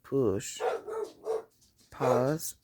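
A dog barks several times in quick, uneven bursts, fairly close and clear, with a short gap before a final louder bark.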